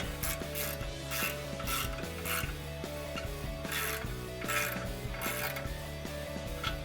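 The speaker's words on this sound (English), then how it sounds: "we're gonna take our 18mm socket. Just gonna crank them down." A ratchet with an 18mm socket cranks down brake caliper bolts on a 2014-2018 Silverado or Sierra HD during a big brake kit install. Its steady, rapid clicking runs close and continuous throughout, with no talk.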